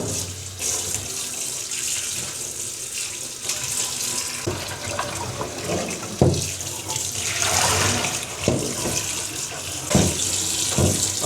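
Running tap water splashes into a sink as preserved mustard greens are rinsed by hand, a continuous close stream broken by sharper splashes and sloshing bursts as the leaves are moved through the water.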